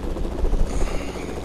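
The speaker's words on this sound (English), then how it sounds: "Did he just take off in our helicopter?" A helicopter in the video game Fortnite, a low, throbbing rotor drone with pulsing thumps that swell briefly and then ease off, heard alone without talk.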